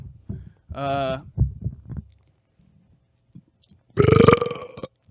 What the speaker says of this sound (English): Burp ASMR.